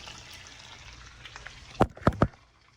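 Meat frying in a hot pan, a low steady sizzle with three sharp scraping strokes near the end as a utensil pushes the browned meat toward the cooler edges.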